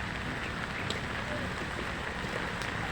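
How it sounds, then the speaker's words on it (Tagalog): Steady rain falls outdoors during a walking exercise, a constant close hiss of drops hitting the ground with no letup. "nagbasa ngayon dahil umuulan"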